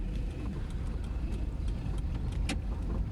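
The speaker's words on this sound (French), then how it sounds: "Une voiture descend la rue Palu de la Barrière. La voiture s'arrête au numéro 13," A car rolls down a street of colonial houses, a steady low road rumble close by with faint chirps and a sharp click near the end as it comes to a stop.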